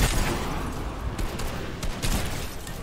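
Rapid bursts of gunfire in a Fortnite match, dense crackling shots and booms layered over game noise, loud and continuous.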